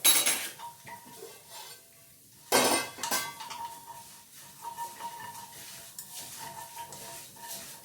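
A spoon stirs and scrapes a small amount of vermicelli roasting in a pan, with repeated clinks and light scraping against the metal, one louder clatter midway, and a faint sizzle underneath, with no voices.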